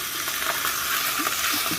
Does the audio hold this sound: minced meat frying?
yes